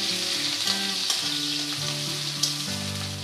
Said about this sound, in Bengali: এবার আমি দিয়ে নেব পেঁয়াজ কুচি আর লঙ্কা কুচি দিয়ে আমি ব্রাউন করে পেঁয়াজটা ভেজে নেব